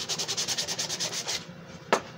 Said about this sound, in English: put a little extra sanding along here to make out the little face and stuff